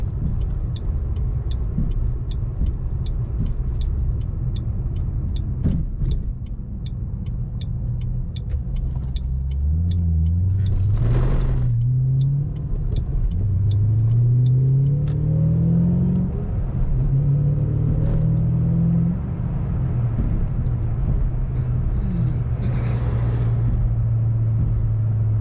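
A 2007 Ford Mustang Shelby GT500 on the road, with a deep, continuous engine rumble that climbs in pitch through several accelerations and gear changes from inside the car, with no talking.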